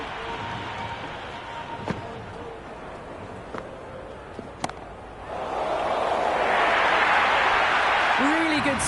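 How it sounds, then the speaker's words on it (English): Cheering crowd at a cricket stadium during an India vs Australia T20 World Cup match, a steady broad roar that swells louder in the second half, with a few sharp knocks and indistinct voices early on. "Crowd, they are loving this. It's difficult to hear yourself thinking here."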